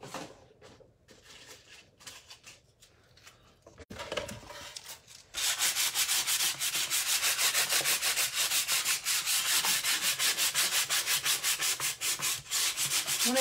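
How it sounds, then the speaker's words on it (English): Sandpaper rubbed over a tile, starting with quieter scuffing and handling, then a loud, continuous rhythmic rasping of fast back-and-forth strokes that fills the rest of the clip. "Sandpaper."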